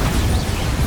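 Bombarda blasting spell from Hogwarts Legacy, a loud, dense burst of low rumbling noise that fills the whole short moment with steady crackling energy.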